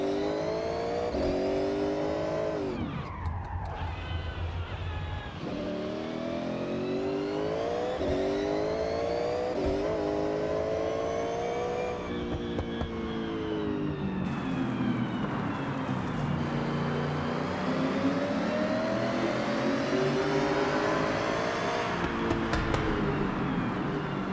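A race-built car in Forza Horizon revs hard and close, its engine note rising and falling repeatedly as it accelerates and shifts through the gears, loud and continuous throughout.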